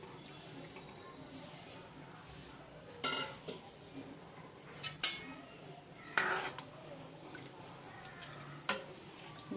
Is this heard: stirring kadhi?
yes